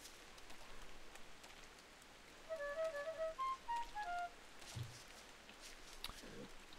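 Rain in the Don't Starve Hamlet video game falls as a soft, steady hiss, with a short run of bright chiming game tones rising over it partway through.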